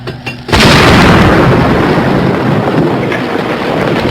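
A dynamite charge tamped into a hole with an iron rod on a railway line near Vermont goes off: after a brief quiet lead-in, a sudden loud blast erupts into a sustained, roaring, rumbling wash that fills the rest.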